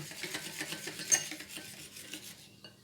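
Burhani ingredients, including sauce and lemon juice, are stirred in a bowl. Quick, soft, rhythmic scraping and clinking of a utensil against the bowl is heard up close and fades out at the end.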